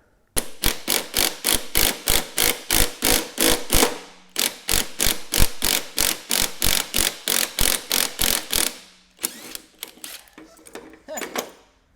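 A small puller is ratcheted to free a seized part on an old riding mower deck, giving a close, rhythmic series of sharp ratcheting clicks in two long runs, then slower scattered clicks.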